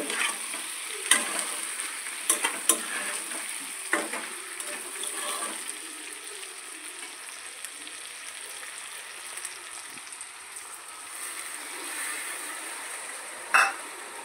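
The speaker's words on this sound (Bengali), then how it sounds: "তো এবার আমি অল্প পরিমাণে একটু জল দিয়ে দিব" Potato curry sizzling steadily in a pan, a continuous faint fry with a few sharp clinks and splashes as a little water goes in, no voices.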